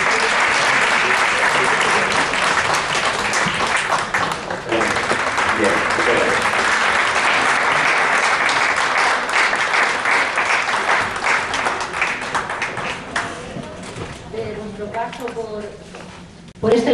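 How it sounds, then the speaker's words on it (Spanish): Audience applause at a Christmas carol concert, a loud sustained clapping from a crowd that carries on for many seconds before thinning out near the end. "Un aplauso."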